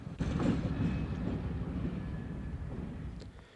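An Alco diesel locomotive, Delaware-Lackawanna 414, moving outside a railway museum gives a steady, loud low rumble that fades a little toward the end, with some wind noise and no talking.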